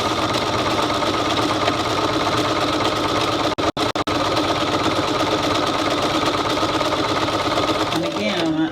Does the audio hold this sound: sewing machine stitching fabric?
yes